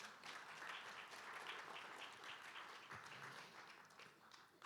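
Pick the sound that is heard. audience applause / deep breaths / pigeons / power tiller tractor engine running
audience applause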